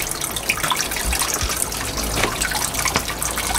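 A garden water pump running in a pond basin lined with stones, sending a steady broadband trickle and splash of water throughout, close and fairly loud with no talking.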